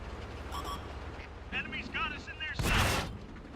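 A tank gun fires once in a World of Tanks match, a loud broadband boom that rolls off into a short rumble late in the moment, following some electronic game tones and under light background noise.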